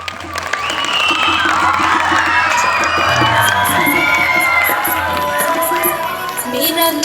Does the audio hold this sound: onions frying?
no